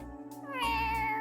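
A single cat in the video game Trails to Azure gives one clear, drawn-out meow, rising then holding steady, close and alone.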